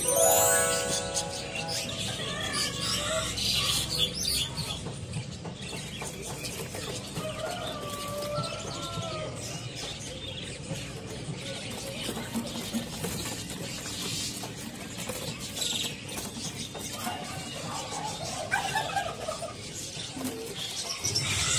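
Caged songbirds, including mandarin pokse, chirping and calling at a bird market kiosk, a dense steady chatter of many birds under someone talking throughout.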